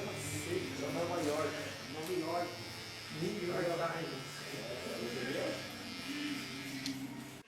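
Electric hair clipper buzzes steadily at close range while cutting a freestyle landscape design into short hair, running continuously under a man's speech throughout.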